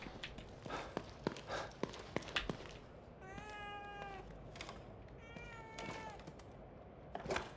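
A cat meows twice inside The Evil Within horror video game, two drawn-out cries standing clearly over faint footsteps and low game ambience.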